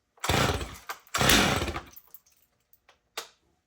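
A Stihl MS250 chainsaw with a 20 inch bar fires up on a pull, a loud, close two-stroke burst that revs briefly, sputters, then catches again in a short roar before dying to quiet taps.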